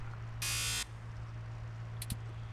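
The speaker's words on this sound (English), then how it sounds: "You need to press the buzzer on the door to get access." A door-entry buzzer in the video game 2064: Read Only Memories gives one short, loud electric buzz over a low steady hum, followed by a faint click.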